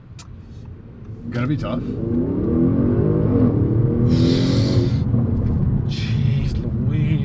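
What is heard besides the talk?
Audi S6 accelerating with launch control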